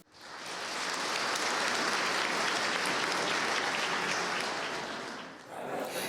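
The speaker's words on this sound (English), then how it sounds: "let's give a warm applause to all our panelists" An audience of panelists' guests at an intellectual property and brand forum breaks into dense, sustained applause that swells quickly, holds steady for several seconds, then briefly dips before picking up again near the end.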